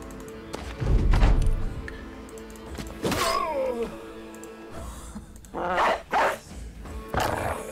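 A dog in the game Battle Brothers barks and growls in a few short bursts amid thuds and combat noise, fairly loud and close.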